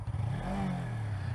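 A Suzuki V-Strom 250 motorcycle with a loud aftermarket exhaust revs briefly while riding in wind and rain, a low engine note rising and falling under steady wind rumble.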